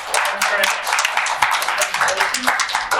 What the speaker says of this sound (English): So I invite everyone to give a round of applause.